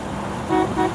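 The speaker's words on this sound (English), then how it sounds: "Horn works." A 1961 Chevrolet Corvette horn sounds twice in short, steady toots over the hum of the car cruising in fourth gear, fairly close and clear.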